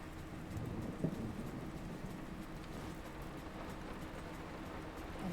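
Rain outside the windows in the 2023 horror game Layers of Fear, a quiet, even wash of steady downpour with a low rumble beneath, continuous throughout.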